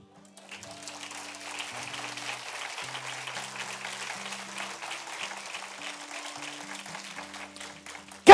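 A congregation at a church service claps, a soft, fairly distant patter of applause that rises after a quiet start and holds steady, with a sustained low tone underneath.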